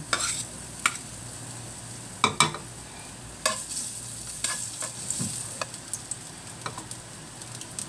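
Onion, garlic and ginger sautéing in a little oil, a constant sizzle broken by sharp scraping and clacking strokes of a utensil against the pan, close and clear with no talking.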